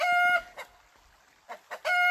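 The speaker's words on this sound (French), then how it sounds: "ils aimeraient bien l'entendre chanter le coq" A rooster crows loudly and close by outdoors in Corsica, two harmonic calls at the start and end with brief clucks between.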